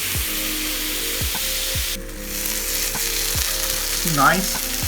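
Chicken sautéing in a fry pan with a little oil, a loud steady close sizzle with occasional scrapes and clinks of a utensil stirring, no voices.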